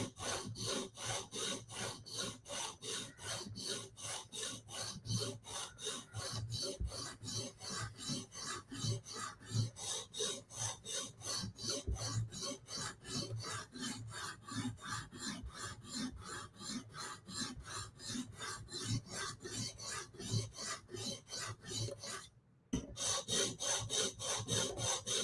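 A knife heel is sharpened on a whetstone in rapid, rhythmic back-and-forth rasping strokes, close and steady, with a short pause near the end before the scraping resumes.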